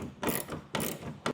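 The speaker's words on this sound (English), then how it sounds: "I found it easier to just use a socket wrench" A socket wrench ratchets while tightening bolts on a Yakima OutPost Overland bed rack on a 2022 Toyota Tundra, three close, loud bursts of rapid clicking separated by short pauses.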